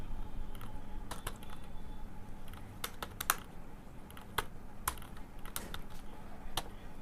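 Someone types a number on a computer keyboard while entering figures for an income tax return. Crisp, scattered keystroke clicks sound close over a steady low background hum, with no talking.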